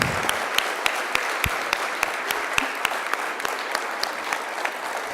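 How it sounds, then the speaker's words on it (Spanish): An audience at an award ceremony claps steadily, a dense patter of hands with a few sharper individual claps standing out, and no voices over it. "Aplausos para él."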